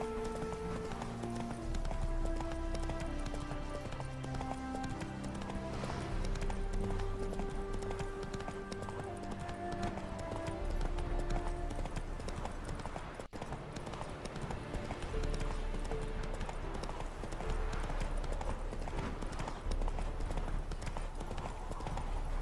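A horse galloping in the video game The Witcher 3, a steady rapid clip-clop of hooves running continuously and loudly under a bed of game music throughout.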